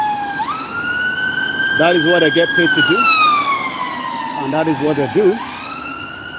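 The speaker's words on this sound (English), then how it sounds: "as you can see, that's the ambulance going to save lives" An ambulance siren on a Nigerian road wails continuously, sweeping up and down as it passes close and loud, while someone talks over it in two stretches.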